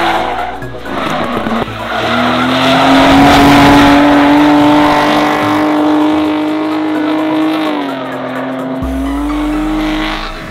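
Supercars drift at an event, with loud sustained tire squeal, a roaring engine and skidding that holds a steady pitch before dipping and rising again, close and dominant.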